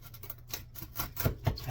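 A knife saws into a crusty sourdough loaf with dry scratchy strokes, building to several crisp crackling crunches of crust near the end, close up and without speech.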